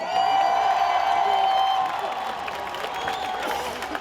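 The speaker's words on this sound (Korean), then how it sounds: "감독님 말씀 중에 여러 번 박수와 환호성이 터졌습니다." Baseball fans in a stadium cheer and clap at a season-final fan appreciation ceremony, a bright whistle-like tone early on, steady then easing slightly toward the end.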